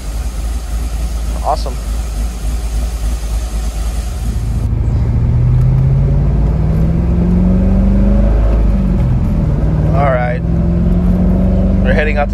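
A C5 Corvette engine with a Texas Speed Torquer V2 camshaft rumbles low, then revs up in a long rising drone, with a brief spoken word near the end.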